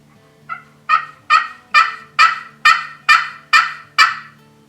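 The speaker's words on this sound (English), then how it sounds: "It's got that loud, crisp cutting, and it's got that raspiness that some toms are looking for in their hens." Hand-operated turkey hen call, Al Horbert Wet One, giving a series of nine loud, crisp, raspy yelps at an even rhythm, close and clear with no talk.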